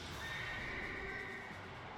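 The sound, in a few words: horse neighing, Horseman card in video game Yu-Gi-Oh!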